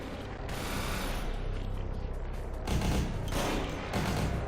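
Gunfire from a gun in a video game, heard as several bursts of loud, rattling shots that come in quick clusters against a steady background of game noise.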